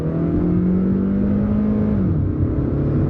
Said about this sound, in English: Step on the gas.